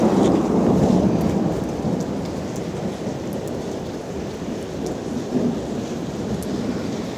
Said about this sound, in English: the lightning struck up in the air